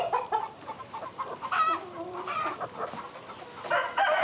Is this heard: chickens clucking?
yes